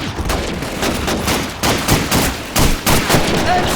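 Bursts of MG-42 machine gun fire in the Call of Duty 2 Russian campaign, loud rapid rattling salvos repeating in several clustered volleys, with faint battlefield noise between them.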